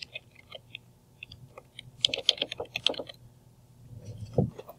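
Typing on a computer keyboard while building a Scratch 2 broadcast example, with scattered light key clicks that rise into a quick busy run of taps midway, and faint background noise around them.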